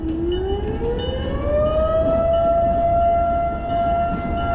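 A loud fire siren wails, rising in pitch and then holding a long steady tone, over a heavy low rumble of a train rolling past nearby, beside the Delaware River.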